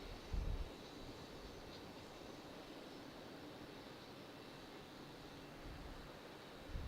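A Boeing 737 jet waiting for departure at Raleigh Durham airport, a faint steady engine whine and rush heard from a distance with no talk.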